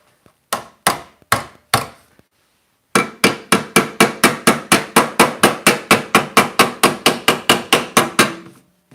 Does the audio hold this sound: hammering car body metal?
yes